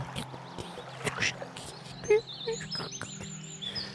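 Scattered bird chirps and tweets over a low steady hum, with brief rustles and calls spread through a woodland-like ambience.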